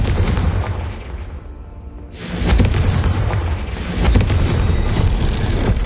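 A Confringo blasting spell explosion in a Wizarding World setting, a loud booming blast that swells in around two seconds and surges again near four seconds, with a deep rumbling tail and no speech.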